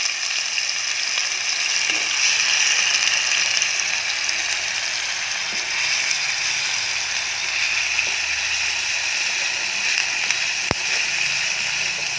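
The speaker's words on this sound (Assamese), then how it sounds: "পনীৰৰ লাড়ুকেইটা উঠাই লোৱা তেলখিনিতে এতিয়া কুটি থোৱা পিঁয়াজখিনি দি দিলোঁ" Chopped onions frying in the oil left in a kadai after cooking paneer balls, making a loud, steady, unbroken sizzle close by with only a few faint clicks.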